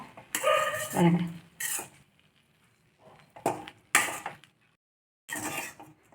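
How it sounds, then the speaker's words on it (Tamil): Brinjal masala rice is stirred in a pan with a metal spoon, giving a few bursts of scraping and clanking separated by short pauses, close and fairly loud with no talk. "நல்லா கிளறி விட்டுருவோம்"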